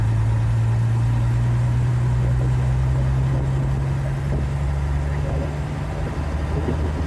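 A 1938 Chevy 38HC pickup with an original straight-six engine and three-speed manual runs steadily on the road, its low, even engine drone and rumble filling the cabin continuously from start to finish.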